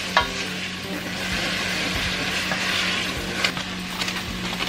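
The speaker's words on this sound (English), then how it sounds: "We're gonna add the chickpeas to the onion and the garlic." Chickpeas sizzling in a pan with onion and garlic, a steady close frying hiss broken by scraping stirs, loud and continuous with no talking.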